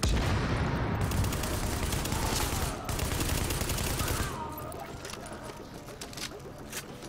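Long rifle gunfire in The Division, a sustained loud volley of rapid shots that breaks briefly, resumes, then thins into scattered quieter shots.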